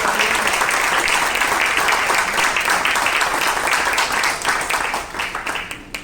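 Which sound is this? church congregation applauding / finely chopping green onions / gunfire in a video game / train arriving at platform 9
church congregation applauding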